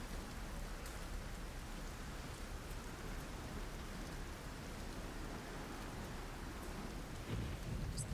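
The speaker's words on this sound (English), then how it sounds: "Sound of the rain slamming into the tin roof." Rain pounding on a tin roof, a dense and continuous hiss and patter that stays steady and fairly close, with a few heavier hits and a low rumble near the end.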